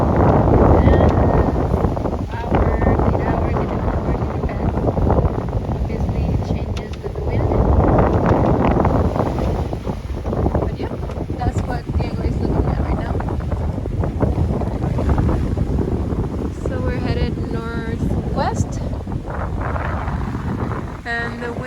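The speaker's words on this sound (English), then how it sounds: "Wind is coming from southeast, kind of east." Strong wind gusting over a sailboat at sea on a passage from Guadeloupe toward Puerto Rico, roaring steadily against the microphone with water noise beneath and people talking intermittently.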